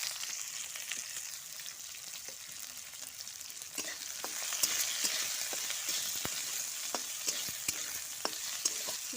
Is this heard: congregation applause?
no